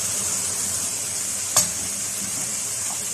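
Onions with garlic powder, coriander, cumin, black pepper and salt sizzle steadily in a pan, with one sharp scrape of a stirring spoon midway through the continuous hiss.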